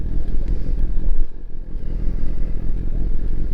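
Motorcycles rumble past close by in a dense, continuous engine roar with clattering texture. The bikes form a group out on the road, heard from alongside a sport bike.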